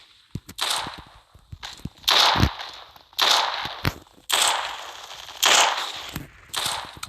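Sniper rifle shots boom in an online shooter game as a player attempts noscopes, with several loud, sharp reports spaced a second or so apart, each followed by a brief mechanical rattle.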